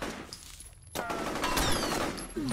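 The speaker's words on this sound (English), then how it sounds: "I love the shotgun. It indeed is a shotgun." Shotgun blasts from the first-person shooter F.E.A.R., a sharp report about a second in followed by continued gunfire and in-game noise for the rest of the stretch, fairly loud with no talk over it.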